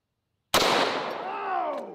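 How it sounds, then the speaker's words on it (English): A single sharp, loud gunshot from an FN SCAR 17 rifle chambered in .308 firing Underwood 175-grain ammunition, a sudden crack after silence followed by a ringing, decaying echo. "FN SCAR 17 chambered in 308"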